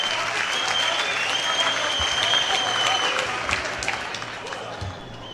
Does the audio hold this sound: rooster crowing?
no